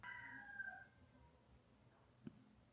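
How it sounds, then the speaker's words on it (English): A rooster crows once, loud and drawn out, then fades, leaving quiet background with a couple of faint clicks. "the chickens have no chill"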